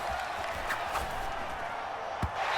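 A stadium crowd in Madden NFL 25 keeps up a continuous moderate roar, with a few sharp accents rising out of it.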